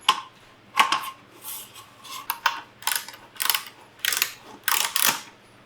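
Bolts on a metal bed frame are tightened during assembly, heard as a series of quick close ratcheting clicks in short bursts, about ten in all, with brief pauses between them.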